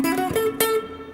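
Guitar riff from a song, played without hammer-ons, as a few separately picked notes in quick succession, clear and close.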